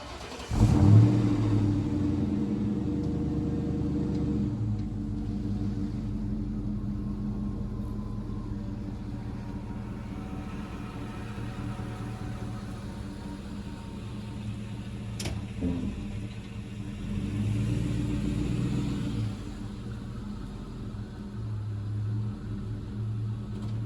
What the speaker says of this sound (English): It's totally stock exhaust, totally quiet.